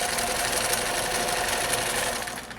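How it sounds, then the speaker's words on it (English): A sewing machine stitches an accent scarf in a fast, continuous mechanical whir, loud and close, running steadily before tapering off at the end. "Okay, then I'm going to sew,"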